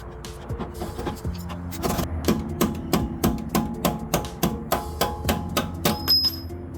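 A hammer strikes out a control arm bolt on a BMW F10 535i, a long series of sharp metallic blows in a steady, slightly accelerating rhythm, loud and close, with no talking.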